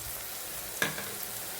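Onions sauté in a pan with a soft, steady sizzle and one quick utensil tap partway through, with no voices.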